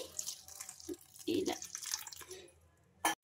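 Water splashes and drips into a bowl of oats, with a few soft glugs and trickles, close up and fairly quiet, ending in a brief louder splash.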